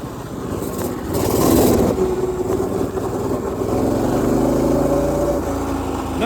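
A mini bike engine revs during a wheelie attempt, droning steadily and close up with a rise in pitch partway through and varying throttle, with no talk over it.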